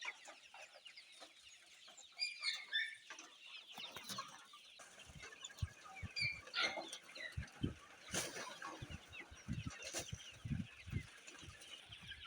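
Chickens and chicks on a farm in Shamakhi cluck and peck while being fed grain, with a rooster-like call and repeated soft thumps and rustles close by, steady over twelve seconds with no talking.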